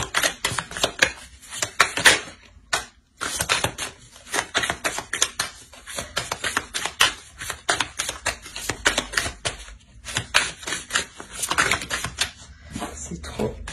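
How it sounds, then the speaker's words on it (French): Tarot cards are handled, shuffled and drawn close up, giving a long run of quick crisp flicks, slaps and rustles with only a couple of brief pauses. "Je vais rajouter une carte."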